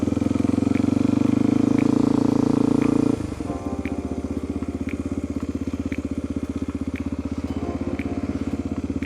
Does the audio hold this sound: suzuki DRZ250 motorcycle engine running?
yes